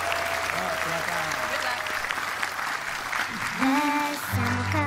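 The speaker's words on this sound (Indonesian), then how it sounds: "Tepuk tangan buat Abi dan papanya." An audience claps for a child and his father at a family Lebaran 2017 gathering, brisk applause running throughout, with singing voices and talk rising over it near the end.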